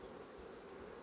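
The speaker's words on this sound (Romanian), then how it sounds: "deja o albină a și ieșit pe acest urdiniș" A honeybee buzzing at the entrance of a hive, a faint, steady hum filling the whole moment without any voices.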